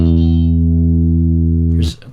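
Music Man bass guitar with mids boosted at 400 Hz, one loud sustained low note droning steadily for nearly two seconds before being cut off with a short noisy release.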